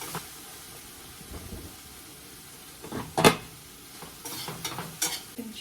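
Kimchi and onion sizzle quietly in a frying pan with a soft, steady hiss, broken by a few sharp scrapes and clatters as they are stirred, close by.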